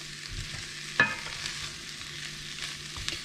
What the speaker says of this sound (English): I'm gonna start to stir these in it first.